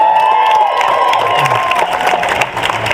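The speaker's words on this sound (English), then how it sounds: "By applause, cheers, however you want to do it" Comedy club audience cheering and applauding, a dense wash of clapping and whoops from a crowd, loud and sustained through the whole moment.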